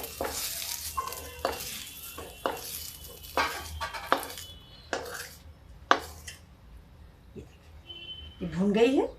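Cooked potato sabzi with fried cumin is scraped out of a kadhai with repeated metallic scrapes and clanks against the pan over a soft sizzle, while a voice talks over it.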